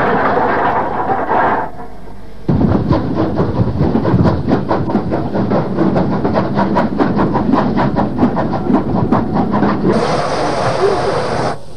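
A Q1 class 0-6-0 steam locomotive of 1942 design runs on a British branch line, its loud steady rolling rumble broken by a brief dip, then rhythmic clanking and wheel clatter, with a hissing burst near the end.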